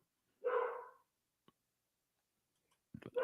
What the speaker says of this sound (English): my dogs are saying that somebody's here or something